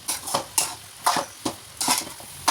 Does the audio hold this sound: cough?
no